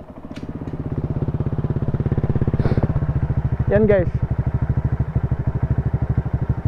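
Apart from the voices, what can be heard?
Honda Click 125i scooter idling with T4S exhaust pipe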